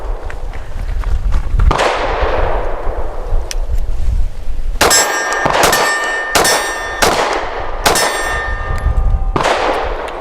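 Five loud 9mm handgun shots fired at a target, each a sharp crack with a ringing metallic clang of the steel target, coming in a fairly quick, even cadence after an earlier distant bang and its long echo.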